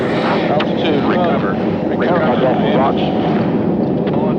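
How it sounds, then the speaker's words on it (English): Military jet aircraft in a steep high-speed dive at nearly 500 knots, its loud continuous engine roar and rushing air filling the scene while a voice speaks over it. "The plane is now doing nearly 500 knots straight down towards the sun-baked rocks below"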